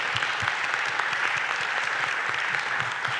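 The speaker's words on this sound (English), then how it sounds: "So let's give him a round of applause." Steady audience applause at a Rotary Club of Little Rock luncheon panel on crime prevention, many hands clapping in a dense, even wash that holds at a constant level throughout.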